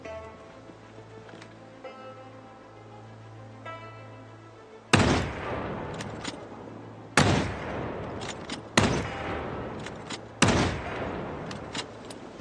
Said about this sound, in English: Let's put that scope back on and do some long-range shooting.